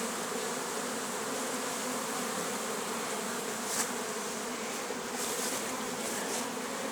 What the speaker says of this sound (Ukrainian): а бджола працює.